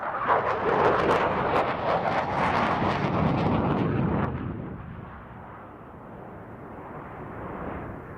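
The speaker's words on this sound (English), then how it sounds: "The pilot is now approaching from your left for the last maneuver of Hellenic F-16." Hellenic Air Force F-16 fighter jet approaching at an air show for its final maneuver, a loud, rough roaring rumble that dominates for about four seconds, then eases to a lower, steadier distant roar.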